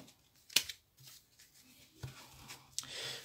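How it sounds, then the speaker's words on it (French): Oracle cards are shuffled and drawn in a quiet room, with a few faint rustles and a couple of sharp snapping flicks of card against card. "je vais donc tirer 3 cartes pour vous"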